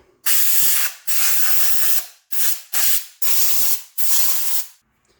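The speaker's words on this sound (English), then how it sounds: "gonna go ahead and blow out some of this gunk" Compressed air blasts gunk out of a Poulan Micro 25 chainsaw in six loud, close hissing bursts of varying length, separated by brief silences.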